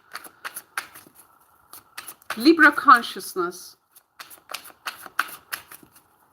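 Tarot cards are shuffled in quick riffling bursts, with a longer flurry in the middle, and someone talks in between the shuffles.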